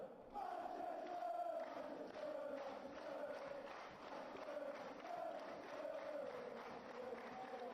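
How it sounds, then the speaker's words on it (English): Stadium crowd in the PES 2021 football video game, a continuous, far-off roar of massed voices that swells and rolls in waves, chanting and cheering without a break. "Crowd appreciates good football all round there."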